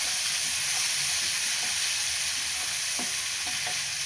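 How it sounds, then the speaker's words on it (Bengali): Onions sizzling steadily in hot oil in a pan, a loud, continuous close frying hiss with a few faint clicks of stirring. "তেল আমার গরম হয়ে গেছে, পেঁয়াজগুলোকে এভাবে ছেড়ে দিতে হবে।"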